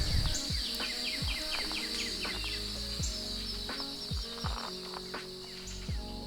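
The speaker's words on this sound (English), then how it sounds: "It's incredible just listening to the bird sounds" Birds sing and chirp steadily in a wildflower meadow on a June morning, several distant calls overlapping above a constant buzz of insects, with no talking.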